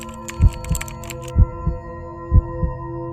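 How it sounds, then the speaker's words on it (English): A slow heartbeat sound effect thumps in three evenly spaced double beats, deep and close, over a faint steady hum. "That's slow, patient. Heartbeat,"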